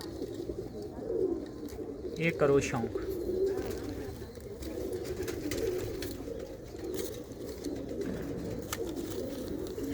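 Malwai pigeons coo softly and repeatedly nearby while someone talks over them, with a few brief chirps mixed in.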